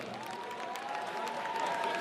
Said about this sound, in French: On applaudit bien fort pour la famille.